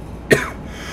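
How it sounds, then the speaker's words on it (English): A single heavy, harsh cough bursts out close and loud, then trails into a brief raspy tail over low background noise. "Sounds like you're about to cough up a lung."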